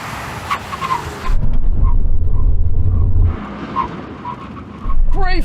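A Nissan 240Z accelerates toward 60 for a brake test, its engine swelling into a loud, close rumble for a couple of seconds before easing off, with faint voices in between.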